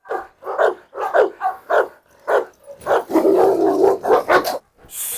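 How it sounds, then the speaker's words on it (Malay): A large blue Cane Corso dog barks repeatedly in loud, close bursts, a rhythmic series of deep woofs with a brief growly stretch in the middle. "Anjing ini lebih tinggi daripada Hector."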